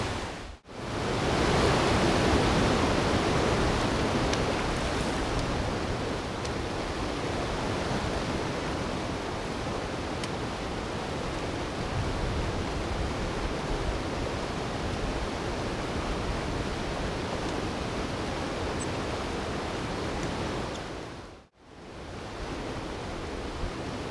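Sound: river and waterfall rushing in Exmoor

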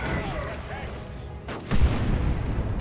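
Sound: high powered shot fired at the Weird Boy, Dawn of War 2 video game

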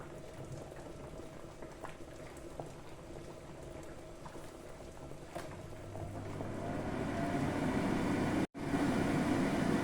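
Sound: water boiling

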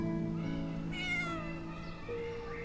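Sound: kitten meowing

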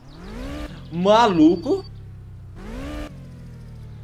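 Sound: Ricochet car engine revving after tuning

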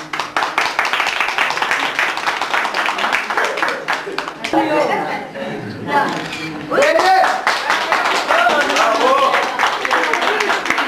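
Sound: applause at a 91st birthday party

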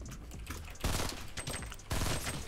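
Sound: burst rifle gunfire in a video game

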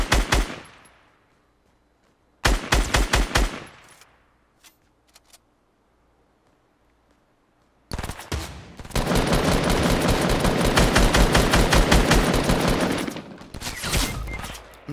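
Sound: gunfire in Fortnite video game

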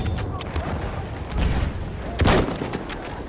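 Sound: machine gun fire in video game Battlefield 1

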